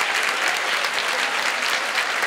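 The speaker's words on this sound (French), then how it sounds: "Fait qu'on applaudit vraiment le groupe Morin." Crowd at a municipality's 100th anniversary ceremony in Sainte-Jeanne-d'Arc applauding a partner group, with dense, sustained clapping from many hands, close and steady with no pauses.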